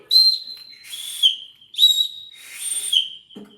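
A shrill whistle blown in several sharp blasts, some with warbling trills, separated by short pauses and sounding close and clear.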